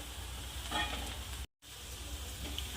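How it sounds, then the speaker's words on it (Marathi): Chopped onion fries in a pan, turning brown, with a steady close sizzle and a spoon scraping and stirring through it; the sound cuts out briefly near the middle, then resumes. "हे बघा छान आपला कांदा ब्राऊन कलर होत आहे म्हणजे कच्चा नाही आहे"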